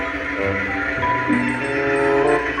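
An Argo Wilis passenger train setting off with a loud, continuous rumble and a sustained hum of engine and wheels, building slightly, with no voices.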